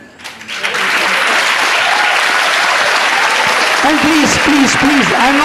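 A residents' assembly audience bursts into sustained, loud applause that swells within the first second and holds steady, with a voice talking over the clapping toward the end.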